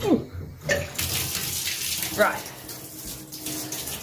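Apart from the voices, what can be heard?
bathtub filling with water from the tap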